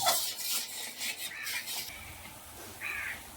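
Eggplant and pickle being fried and stirred in a pan: repeated scraping, clattering strokes that fade after the first two seconds, followed by a few quieter scrapes and no talking.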